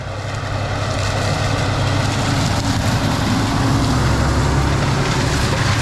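A big Fendt 942 Vario tractor pulls a Salford vertical till across a farm field, its engine a loud, steady, unbroken drone with heavy low rumble and dirt-slinging noise throughout.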